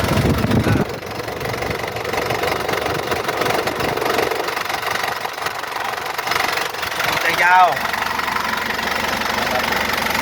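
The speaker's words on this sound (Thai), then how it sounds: "เครื่องยนต์ปกตินะครับ" A used four-wheel pickup's engine idles with a steady, rough mechanical rumble while someone talks over it throughout.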